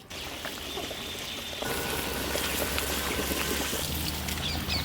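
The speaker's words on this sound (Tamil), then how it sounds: "இப்போ எண்ணெயிலே வதக்கினா கத்திரிக்காயை சேர்த்துக்கிடுவோம். இந்த கத்திரிக்காய் அந்த மசாலா கூட நல்லா வேகணும்." Oil-fried eggplant goes into a simmering Tamil kuzhambu gravy, a steady close sizzle and bubbling that grows louder partway through as the pieces hit the hot gravy, with no voices.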